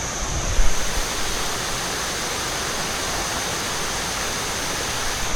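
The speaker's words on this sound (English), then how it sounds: "a waterfall" A waterfall in Pai, Thailand, roars steadily as a dense, broadband rush of falling water, close and continuous with no talking.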